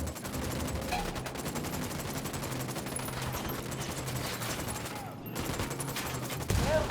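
Rapid gunfire rattles on without a break in a Ghost Recon Wildlands firefight, dense and continuous, dropping out briefly near the end before a final crack.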